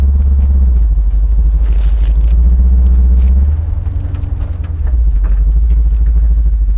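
A 1976 Pontiac Firebird's engine rumbles loud and steady from inside the moving car, its low drone dipping briefly midway as the revs change before settling back into a constant growl.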